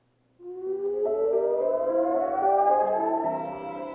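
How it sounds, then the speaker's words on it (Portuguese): A civil defense air raid siren in Israel sounds during a missile alert, starting abruptly and holding a loud, steady, slowly rising wail with no talk over it. "Em meio ao som de sirenes e à interceptação de mísseis"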